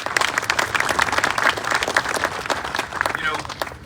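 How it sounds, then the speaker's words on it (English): An outdoor crowd applauds at a ribbon cutting for apartments in a former elementary school in Aurora, Illinois, a brisk, sustained round of clapping with voices mixed in beneath it. "let's keep that round of applause going for Fox Valley Apartments"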